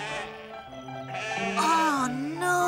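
A cartoon sheep bleats several times in a row, close and clear, with wavering, drawn-out cries.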